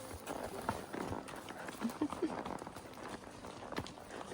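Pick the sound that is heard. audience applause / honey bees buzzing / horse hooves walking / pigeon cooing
horse hooves walking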